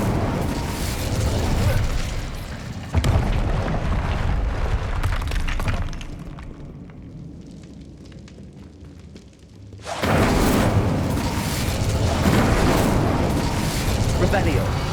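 Fiery spell blasts in the Hogwarts Legacy video game roar and crackle loudly in dense bursts, easing into a quieter stretch before another loud surge.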